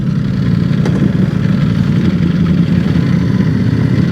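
A Ducati motorcycle engine runs close by in a steady, loud, even rumble that holds without revving through the whole stretch.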